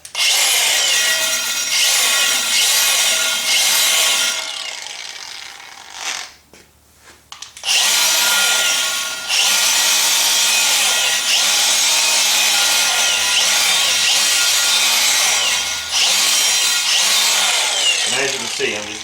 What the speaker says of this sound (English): Now the wire wheel I'm using is just a El Cheapo from Harbor Freight